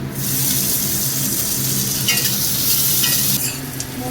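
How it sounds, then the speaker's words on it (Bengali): Chopped tomatoes go into onions frying in a pan for a tangra fish curry. A loud, busy sizzle runs under repeated scraping strokes of a spatula, with a few brief louder stirs near the end. "এবার কুচনো টমেটোগুলো দিয়ে দিলাম।"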